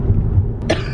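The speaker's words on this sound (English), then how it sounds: "she hasn't been stopping coughing" A woman gives a single short, sharp cough close by near the end of a brief quiet moment, with low rumbling room noise beforehand.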